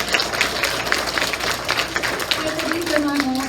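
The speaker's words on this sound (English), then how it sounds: "Let me hear a clap again." An audience at a fifth grade commencement ceremony claps on request, a continuous crowd of hands clapping at steady strength, with a voice speaking near the end.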